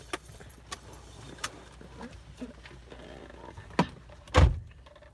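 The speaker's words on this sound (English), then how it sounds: "I got my other keys over here." Keys jangle near a car in a few faint, brief clinks spread over several seconds, ending in a louder close rattle and thump, over quiet background rumble.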